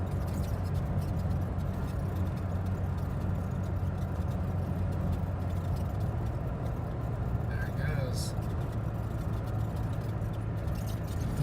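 A 2018 Toyota Tacoma SR5 pickup climbing a hill, heard from inside the cab as a steady, continuous engine and road drone with low rumble throughout, no distinct gear changes standing out.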